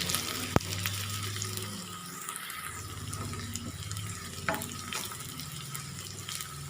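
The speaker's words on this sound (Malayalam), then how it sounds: "ചെറിയുള്ളി ഒന്ന് മൂത്ത് വരുന്നവരെ നമുക്കിതൊന്ന് വഴറ്റി കൊടുക്കാം" Shallots, curry leaves and dried red chilies sautéing in a pan give off a quiet, continuous sizzle, broken by a sharp tap near the start and a few faint scrapes of stirring, with no voices.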